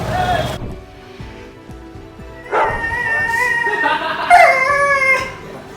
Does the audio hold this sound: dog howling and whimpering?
yes